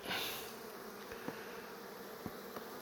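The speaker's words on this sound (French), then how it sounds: "il y a beaucoup d'abeilles quand même" Honeybees buzz around a hive, a dense, steady drone with occasional faint taps and knocks, fairly quiet throughout.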